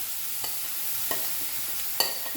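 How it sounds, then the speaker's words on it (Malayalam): Carrot pieces sauté in sesame oil in a pan over a low flame, a steady soft sizzle with a few light scraping clinks of stirring, close and with no voices. "ലോ ഫ്ലെയിമിൽ വെച്ചിട്ട് ഈ ക്യാരറ്റ് തട്ടി കൊടുക്കാം"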